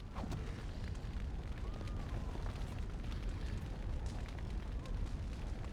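Fire spell in the video game Dragon Age: Origins, a dense roaring, crackling burst that stays loud and steady for several seconds with faint game sounds underneath.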